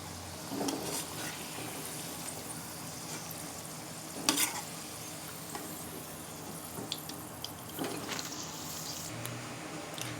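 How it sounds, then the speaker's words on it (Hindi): Onions sizzle softly in an oiled pan after potatoes were fried in it for a vegetable tikka dish, with a low steady hiss and a few scraping stirs and clinks of a spoon. "अब हम इसमें प्याज फ्राई करेंगे।"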